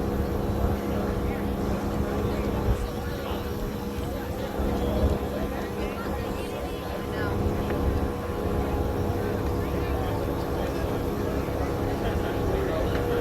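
A small drone hovers and buzzes overhead at a lakeside bass fishing weigh-in on Wilson Lake, Kansas, a steady droning hum blended with outdoor crowd murmur and wind throughout.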